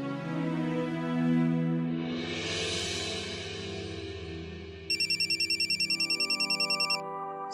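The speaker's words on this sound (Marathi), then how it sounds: "संजूचा फोन." A phone ringtone sounds in a scene from a Marathi TV serial. It comes in as a rapid, regular run of electronic pulses partway through, after a sustained tonal musical passage, and is close and clear.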